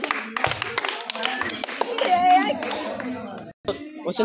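A group of children and adults applauding a prize winner at a kids' food challenge game, lively bursts of hand clapping close by, mixed with chatter and children's voices.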